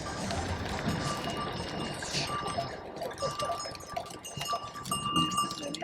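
A herd of goats moves nearby on a hiking trail on Turkey's southwest coast, with scattered bleats, shuffling hooves and faint bell clinks over a busy outdoor background.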